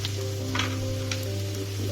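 Onions sizzle steadily in a hot pan for potato palya, a constant close crackle with a few brief stirring scrapes and no voices.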